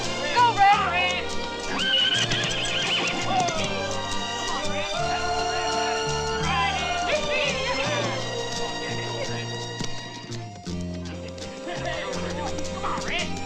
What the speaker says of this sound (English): What's the matter, Red? That horse ain't died on you, has he?